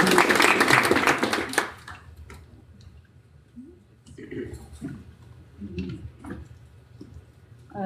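A crowd at an Austin on Rails meetup claps, with loud, dense applause in the first second and a half that quickly fades to a few scattered claps and quiet room noise.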